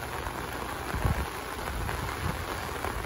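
Heavy rain pouring down in a steady, dense hiss, with a few low thumps under it.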